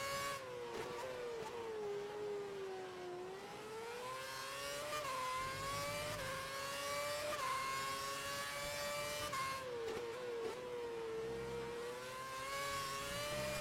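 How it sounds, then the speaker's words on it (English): High-revving V8 engine of a 2006–2013 era Formula 1 car, screaming pitch rising and falling through gear changes as it accelerates, a continuous loud wail with no talk. "F1 cars, they did still sound good in the V8 era, okay?"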